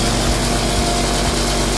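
A drill runs continuously and loudly at close range with a steady buzzing whine and slight pulsing, and no voices over it.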